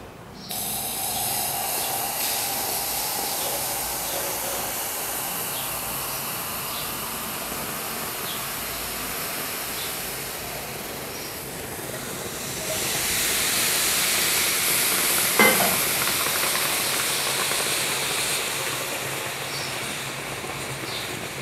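Hot tea poured into a heated clay matka, a steady loud hiss and sizzle with splattering that swells louder partway through, like rushing steam, with no talking.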